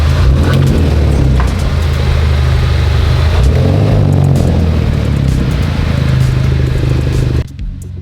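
A car engine revs and rumbles loudly up close during a test drive, with some rattling clatter over a deep, steady drone that cuts off sharply near the end.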